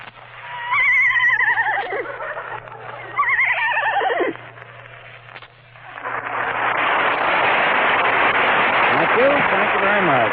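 A man imitates a horse, giving two drawn-out whinnying neighs with falling pitch, then a breathy, noisy stretch that ends in a final shaky whinny. The sounds are loud and close, and there is no other talk.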